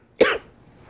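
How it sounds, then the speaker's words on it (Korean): A single short, sharp cough from a man with a cold, heard close and alone, with a quick fade afterward. "저 간간히 기침을 할 것 같아요. 감기 걸렸어요."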